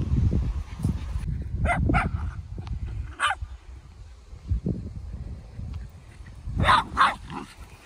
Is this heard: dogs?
yes